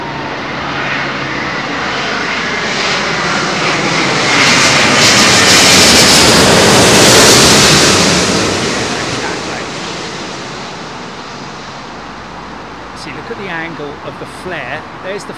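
An Airbus A350 lands on runway 27L at London Heathrow, its engine roar swelling loud as it passes close and then fading, with a voice talking over it near the end.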